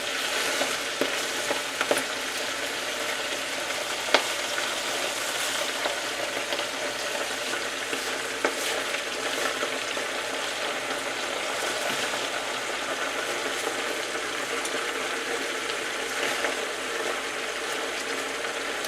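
Broccoli rabe sizzles and fries steadily in a hot pan, a dense continuous crackle with occasional stirring clicks and scrapes, close and fairly loud with no voices.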